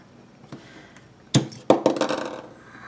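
An X-Acto knife slices through paper on a box during a planner crafting session: a faint tap, then two sharp close knocks followed by a rough, scraping cutting burst that fades out. No talking.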